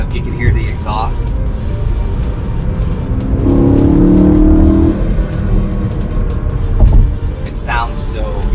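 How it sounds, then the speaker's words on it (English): BMW E92 M3 with its V8 exhaust, driven with paddle shifts, gives a steady engine drone that swells into a stronger rev midway, heard from inside the cabin with someone talking over it. "I don't know if you can hear the exhaust."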